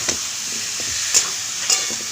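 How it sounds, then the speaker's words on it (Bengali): Vegetable stems being stir-fried with ground pepper and chilli powder in a pan, giving a continuous sizzle with a few sharp scrapes of a spatula against the pan, close and clear, with no talking. "ডাটাগুলো মশলার সাথে একটু কষিয়ে নেব।"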